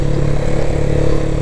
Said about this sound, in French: Mais je me suis bien vachement habitué avec cette moto.